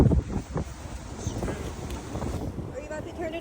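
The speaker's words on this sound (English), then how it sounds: "It's very windy." Strong wind gusts outdoors and buffets the microphone in uneven low rumbles, with faint rustling beneath.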